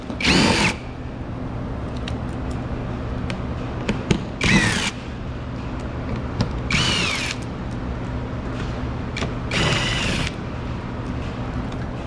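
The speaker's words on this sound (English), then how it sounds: "And then we can go ahead and remove these 10mm bolts." Power tool removing 10mm bolts while replacing the alternator on a 2019–2024 Nissan Altima, several short loud whirring bursts of a drill or impact driver, separated by pauses filled with quiet background hum, with no talking.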